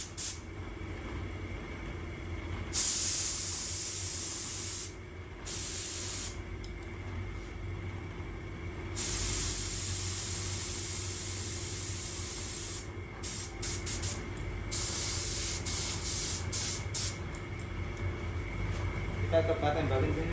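Modified F3 spray gun blasting air in repeated loud hissing bursts of varying length, close by, over a steady compressor rumble, with someone talking in between.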